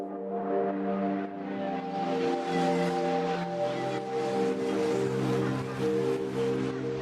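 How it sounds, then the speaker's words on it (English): A lush, sustained synth pad holds layered chords, with a soft airy wash like distant surf drifting underneath, steady and immersive. "into cinematic, gorgeous pads like this"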